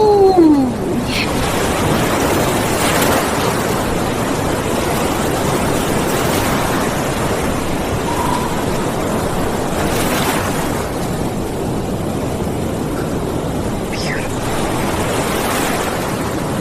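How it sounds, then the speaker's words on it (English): Ocean waves give a loud, constant wash of surf with slow swells rising and falling, and no voices over it. "Look at the ocean. And waves."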